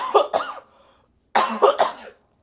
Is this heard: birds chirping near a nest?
no